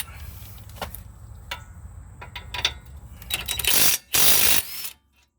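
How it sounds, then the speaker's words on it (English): An impact wrench drives 21 mm bolts on a 2004 Dodge Ram 1500 during a front wheel bearing job. Scattered mechanical clicks give way to two loud, close rattling bursts, then silence. "I'm just going to go straight for the impact."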